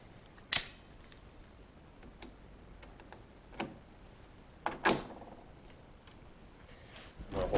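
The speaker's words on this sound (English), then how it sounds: "I'm going to hold this band tight while I'm using the rivet gun." A hand rivet gun setting rivets through a band on an exhaust pipe, producing a few sharp, brief clicks and snaps separated by quiet pauses in a workshop.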